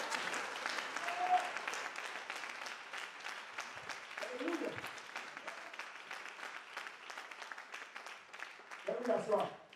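A church congregation applauds steadily, a dense continuous patter of many hands that holds for the whole stretch, with a few brief voices rising above it.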